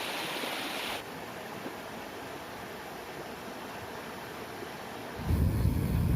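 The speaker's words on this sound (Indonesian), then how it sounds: "kita nikmati sejuknya air sungai yang melintasi daerah ini" A cool river crossing the area rushes past in a steady, close broadband wash of flowing water with no voices, swelling louder and fuller in the last second.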